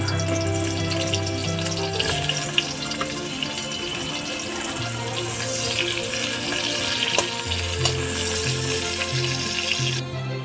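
Eggplant pieces frying in hot oil in a pan, a steady close sizzle with a low hum running underneath, no voices.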